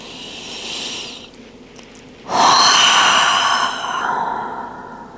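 Breathing during a yoga session for stability and balance: a soft inhale, then a louder, rushing exhale or sigh from close by, with no talking.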